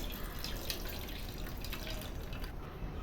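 Water drains and drips from cooked beans and green gram, a faint, quiet trickle with scattered small drips and a soft splash at the end.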